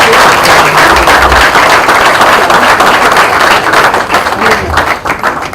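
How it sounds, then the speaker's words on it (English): A crowd at an inauguration event applauds loudly and continuously, dense clapping filling the whole stretch with no voices over it. "Ladies and gentlemen, big round of applause."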